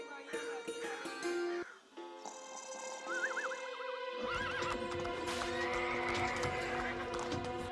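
A tanga cart horse on a village road neighs loudly in a rising whinny, followed by a second neigh, with steady clip-clopping hooves and a busy cartoon-style backdrop throughout.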